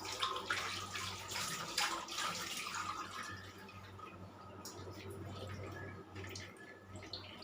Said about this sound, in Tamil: இப்போ இதில் ஒரு 1/2 கிளாஸ் வாட்டர் ஊற்றணும்.